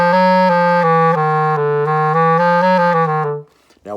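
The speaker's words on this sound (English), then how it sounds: "because when you get a blip, it sounds like this." A clarinet holds a sustained note that steps between pitches, with a brief unwanted blip from mistimed pinky keys as the fingering changes, then cuts off into quiet with a short breath at the end.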